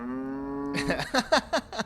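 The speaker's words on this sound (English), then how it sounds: "Why is there a cow in here?" A cow moos in a rock-carved ritual chamber, one long low drawn-out call followed by a run of short, louder pulsing moos, fairly close and clear with no talk over it.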